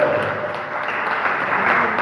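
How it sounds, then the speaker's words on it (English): An audience at a poetry and storytelling festival claps together in a steady, moderately loud burst of applause filling the room. "Please give him a round of applause."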